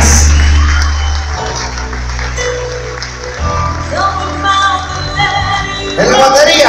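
Applause from an audience at the close of a live salsa band show, a loud sustained crowd wash of clapping and cheering with shouts and whoops rising near the end, a voice speaking over it.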